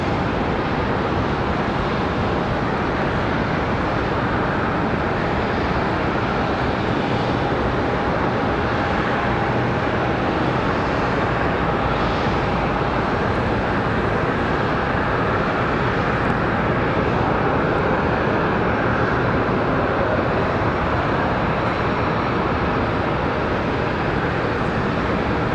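Airliner at Charlotte Douglas airport preparing for departure, a continuous loud, broad jet engine roar that holds steady throughout with no talk.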